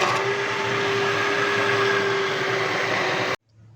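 An electric kitchen blender churns homemade curd (dahi) into butter with a steady, loud, close whirring drone that cuts off abruptly near the end.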